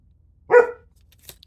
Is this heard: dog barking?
yes